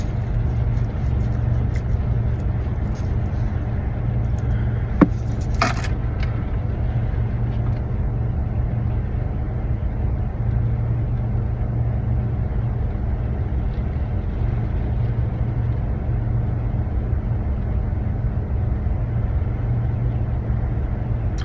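A car driving home, with a steady low engine rumble and road noise running throughout, joined by a brief sharp click or knock partway through.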